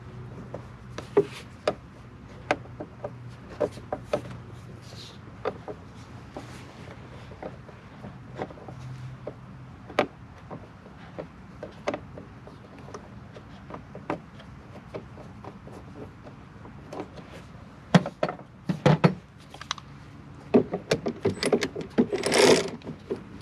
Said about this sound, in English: I got to remove the battery clamp